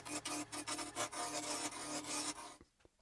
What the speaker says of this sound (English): we're going to start off using a spindle roughing gouge